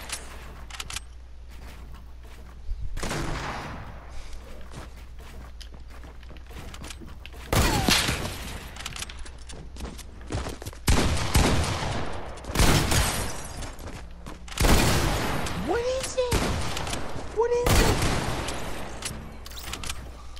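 Gunfire in the shooter game Doom, scattered shots and heavy thuds at moderate loudness, coming in uneven clusters over a low steady hum, with brief blips of game sounds between bursts.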